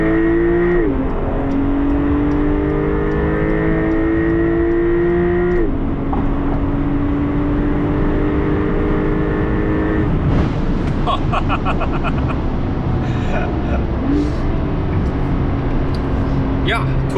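Porsche 911 Turbo Cabriolet accelerating hard in sport mode, a loud engine rising in pitch through a gear change and climbing again, heard from inside the car with a voice talking over it.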